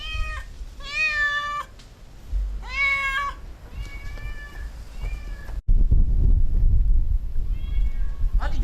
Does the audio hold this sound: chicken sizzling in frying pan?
no